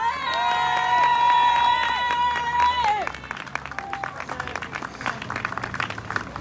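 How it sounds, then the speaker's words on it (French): Crowd applause at a rally outside a building: a sustained tonal sound fades out after about three seconds, and dense clapping with some cheering carries on at a moderate level. "je vous prie de faire un tonnerre d'applaudissements"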